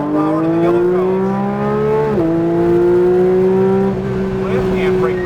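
A race car accelerates hard at full power, its engine note climbing in a loud, close, sustained whine that dips briefly at a gear change and then rises again.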